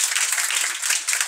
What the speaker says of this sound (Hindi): किशन के लिए जोरदार ताली हो जाए